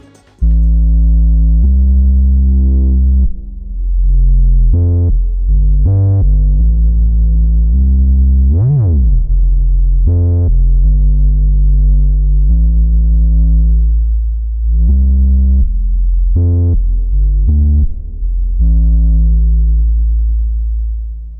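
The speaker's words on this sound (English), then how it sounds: "Another way to use the two filters for ultra fat bass sound" Deep, thick bass notes from a UNO Synth Pro analog synthesizer, its two filters in series, pulse in sustained tones with short gaps, one brief pitch-bending swoop in the middle, loud and close throughout.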